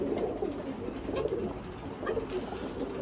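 Pigeons coo in a loft, soft repeated low throaty coos overlapping one another at close range, with faint rustling and no talk.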